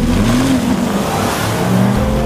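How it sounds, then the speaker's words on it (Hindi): A car engine revs and pulls away, a loud, close, continuous rumble with rising and falling pitch as it accelerates, no voices over it. "फिर उन्होंने वहां से तुरंत ही गाड़ी निकाली और आगे बढ़ गए।"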